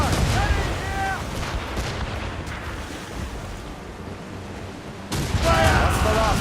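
Ship cannons firing in a naval battle in the video game Assassin's Creed Rogue, heavy booming blasts over ocean waves, with a burst at the start and another near the end, under shouted orders.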